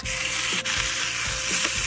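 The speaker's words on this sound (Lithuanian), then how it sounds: "Dabar viską apkepsim iš visų pusių." Pork hock sizzles loudly and continuously as it browns in a pan, with a few soft thumps of the meat being turned and no voices.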